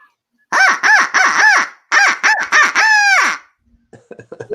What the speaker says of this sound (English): here's the owl call